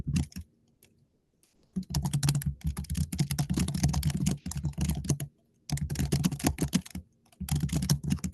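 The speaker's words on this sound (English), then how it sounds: "you're typing very loud" Loud, rapid clicking of computer keyboard keys during an online working-group meeting, coming in dense bursts separated by short silences.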